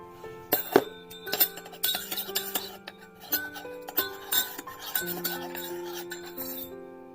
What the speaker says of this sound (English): Let me just stir it up.